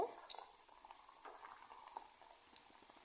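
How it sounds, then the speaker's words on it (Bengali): Chicken drops into hot oil in an iron wok and fries with a steady bright sizzle, dotted with small pops and crackles, fairly quiet and close. "লোহার কড়াইয়ে আমি তেলটা গরম করে নিয়েছি এখন আমি চিকেনটাকে ঠিক এই তেলের উপরে দিয়ে দিব"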